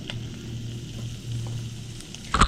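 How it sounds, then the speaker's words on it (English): Shrimp shells cook in a pot for stock with a faint, steady sizzle under a low hum, and a short clatter of utensils comes at the end. "You want to take your bones, which would be the shrimp shells, and cook these until they turn pink."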